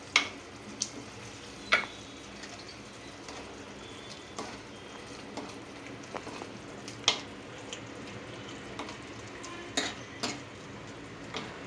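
Scored sardines cook in a pan with a soft, low sizzle and scattered sharp clinks of a utensil against the pan, with no talk.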